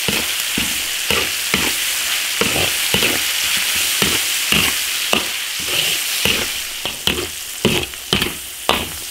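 Pork sizzling and being stir-fried in an iron wok for twice-cooked pork, oil crackling steadily with repeated scraping strokes of a spatula against the metal, close and loud, no voices.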